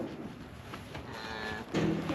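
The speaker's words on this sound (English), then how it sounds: "Watch behind you, darling, 'cause there's a cow." Cow mooing near a livestock trailer while collecting a rare-breed house cow, a low drawn-out moo swelling at the end over a background of rustling farm noise.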